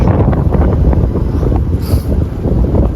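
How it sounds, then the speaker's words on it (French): Strong wind buffets the microphone during a cycling trip in Newfoundland, a loud continuous low roar with gusty rumbling throughout and no talking. "C'est fou le vent."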